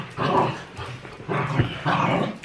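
Indoor dogs bark and growl in three loud bursts, each a rough, throaty vocalization separated by brief pauses, close to the listener.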